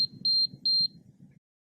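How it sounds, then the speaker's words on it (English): An NDEB wireless lock gives two short bright electronic beeps in quick succession after its batteries go in, close and clear over a low hum that stops soon after. "the lock will sound a pattern of beeps."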